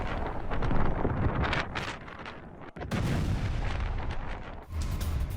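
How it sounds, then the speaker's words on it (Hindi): Explosions from an Israeli air strike on a Hezbollah weapons depot in Lebanon sound as heavy, rumbling booms, roaring loudly and continuously and buffeted by wind noise, with a brief sharp dropout partway through. "एक के बाद एक 3 धमाके हुए"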